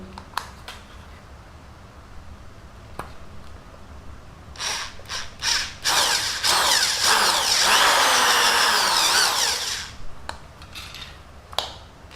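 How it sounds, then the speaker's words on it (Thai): A power drill with a 7 mm bit whirs in short bursts, then bites in for a sustained, loud drilling stretch of several seconds before stopping, with small clicks around it. "เดี๋ยวเรามาเจาะกันเลยนะครับ"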